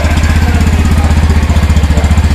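A Yamaha motorcycle engine fires up and settles into a loud, close, steady idle with an even rapid pulsing beat.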